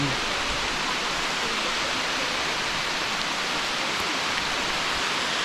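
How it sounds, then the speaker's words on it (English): Heavy rain pours down in a dense, steady hiss that fills the whole stretch with no pauses and no voices. "it's dumping rain"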